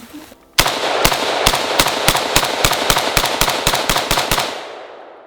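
Rapid AK rifle gunshots, about fifteen sharp, loud, evenly spaced cracks fired in quick succession, close by, after a brief quiet start and ending with a fading tail.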